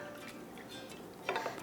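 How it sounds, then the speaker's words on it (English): A spoon stirs a pot of water and vinegar with bay leaves and spices, giving a steady sloshing swirl with a small burst of metallic clinks near the end. "Just going to give it a quick stir."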